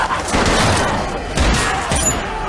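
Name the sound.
gunshots in a TV show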